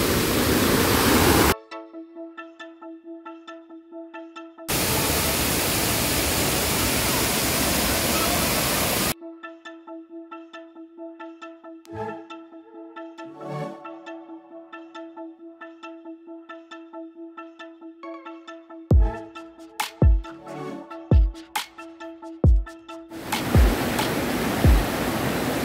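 Jibhi Waterfall in Himachal gives a loud, steady rushing roar in several stretches. Between them, music with soft tones and sharp clicks plays with no water noise.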